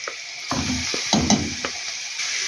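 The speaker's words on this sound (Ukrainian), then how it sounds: "І ще трішки просмажу з моркою" Onion and carrot fry in oil in a pan for stuffed peppers, with a steady hissing sizzle and several soft scraping stirs of a utensil against the pan, close and with no talking.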